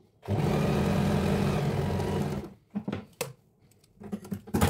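A sewing machine runs steadily for about two seconds while stitching the front piece of a crop top for a twelve-year-old girl, then stops, followed by a few short handling knocks and bursts.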